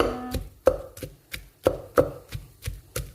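Shallots and garlic are pounded in a mortar for chili paste, a steady series of about ten dull, close thuds at an even rhythm, with no talking.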